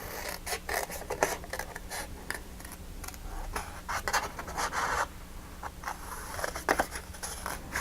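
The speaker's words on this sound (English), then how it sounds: "using our Detail Pro scissors." Detail Pro scissors fussy-cut stamped card stock in a close, steady run of short crisp snips and rasping paper rubs, with no talking.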